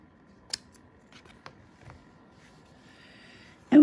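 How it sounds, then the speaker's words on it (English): Scissors make a few faint, quiet snips cutting card at an angle for a handmade butterfly card, with a louder rustle at the very end. "Now we're going to take one, cut it at an angle."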